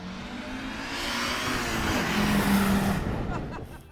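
Audi Sport Quattro rally car engine swelling to a loud, raspy roar as it passes close by, building over a couple of seconds and then fading away.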